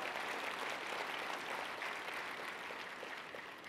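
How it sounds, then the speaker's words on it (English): Keynote luncheon audience cheering and applauding on cue, a dense, steady wash of claps and shouts that fills the room at close range, with no individual voice standing out. "Cheer! Come on, we need noise"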